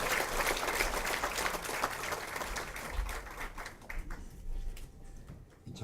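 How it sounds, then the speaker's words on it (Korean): An outdoor crowd at a party leadership campaign rally in Incheon applauds to welcome a candidate to the stage, with dense, sustained clapping that thins out and fades near the end. "박수로 환영해 주시기 바랍니다."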